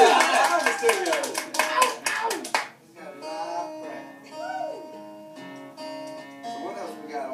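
Crowd at a live show clapping and cheering for a few seconds, dense applause that fades out as a singer's melodic voice and music carry on.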